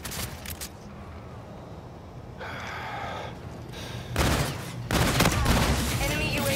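Hailstorm pistol bursts in a video game: rapid clusters of gunfire with sustained noisy blasts, loud and continuous over several seconds, with in-game sound effects underneath.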